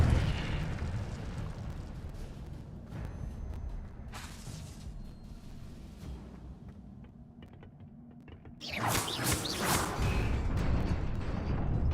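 An Incendio fire spell goes off in the Hogwarts Legacy video game amid a low rumbling game soundscape, with a few swooshes and then a loud roaring whoosh of flame near the end.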